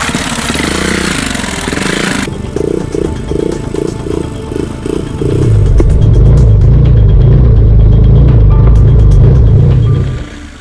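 A motorcycle crosses a river in the rain on a hard-to-reach rural route in Indonesia, its engine idling and then rising into a loud, steady, low drone that holds for several seconds before cutting off.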